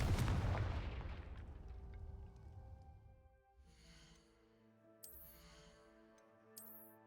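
A Confringo blasting spell cast in a Harry Potter video game bursts out loud and close, then rumbles and fades as ringing tones and scattered sparkling hits linger.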